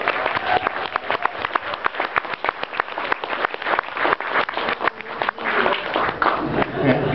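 Round of applause from a teach-in audience, close and lively, with individual claps standing out in an uneven rhythm that carries on steadily throughout while a few voices murmur underneath.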